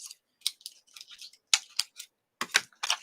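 Scissors snipping through paper while trimming a piece for a one-page scrapbook layout, a quick run of short, close crisp cuts with brief pauses between them.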